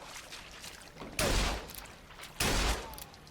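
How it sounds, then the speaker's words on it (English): Two loud, close hand cannon shots in the video game Bioshock Infinite, each a sharp blast about a second apart with a short ringing tail, over a low background hum. "All I have is a hand cannon."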